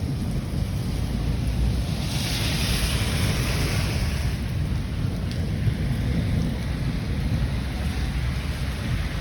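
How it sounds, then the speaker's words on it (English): A thunderstorm with wind and heavy rain makes a dense, steady roar of downpour and gusting wind that stays loud and unbroken throughout, with no voices. "this is the thunderstorm of my life"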